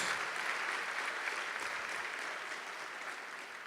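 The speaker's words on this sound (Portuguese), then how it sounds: "E que a força dessas palmas possa ecoar dentro da nossa alma" A church congregation claps together in steady, dense applause that fills the room at moderate distance, slowly tapering slightly toward the end, with no voices over it.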